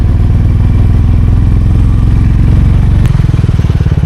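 A motorcycle engine runs steadily at close range with a deep, pulsing rumble while riding the Old Silk Route in East Sikkim. Near the end it shifts to a rougher, choppier throb.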